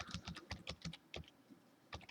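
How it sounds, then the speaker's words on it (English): Keys tapped on a computer keyboard, the F1 key pressed repeatedly in a quick uneven burst of close, crisp clicks, a brief pause, then two more taps. "keep hitting F1 on my keyboard for some reason"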